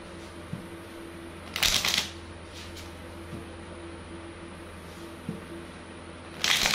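Tarot cards being shuffled and drawn during a reading. There are brief riffling bursts, one at about two seconds and another at the end, with faint soft taps in between over a quiet background hum.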